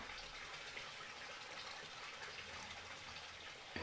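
A wet mixture is poured into a bowl of flour for Irish brown bread, making a soft, steady pouring gush that runs continuously for a few seconds at close range.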